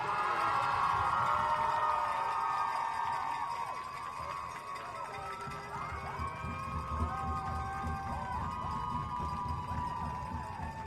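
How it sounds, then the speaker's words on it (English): A crowd at a girls' flag football city championship ceremony cheers and shouts steadily through the whole stretch, a dense wash of voices that eases slightly midway and stays loud and sustained, with children's shrill calls rising above it. "Let's clap it up for Michelle Abdamar."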